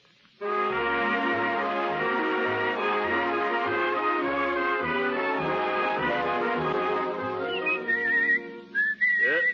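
A person whistles a lively tune alone, clear and close, with bright sustained notes over a faint rhythmic backing.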